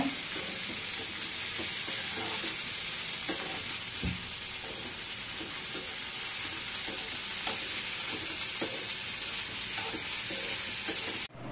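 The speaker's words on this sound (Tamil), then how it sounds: "கத்திரிக்காய் சட்னிக்கு நல்லா வதக்கிட்டோங்க." Eggplant sautéing in a pan for a chutney with onion and salt, a steady close sizzle with frequent stirring scrapes and soft taps throughout, no talking.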